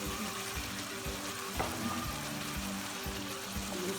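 Masala frying in ghee for a beef brain masala dish, a quiet steady bubbling sizzle with soft recurring taps and scrapes under it.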